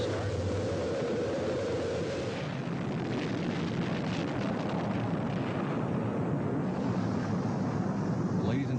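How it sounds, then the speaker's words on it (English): Space shuttle main engines igniting at a rocket launch: a dense, continuous roar that builds and holds steady, with a low rumble throughout and broadcast voices beneath it. "We have main engine start."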